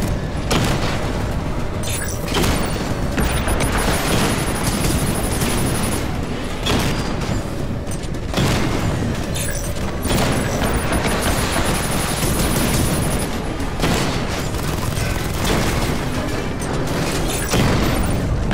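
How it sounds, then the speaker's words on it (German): Heavy booming explosions and rumbling blasts fill a dense, loud stretch of combat in the video game Batman Arkham Knight, with layered rolling detonations throughout. "Irgendwas Dickes ist explodiert."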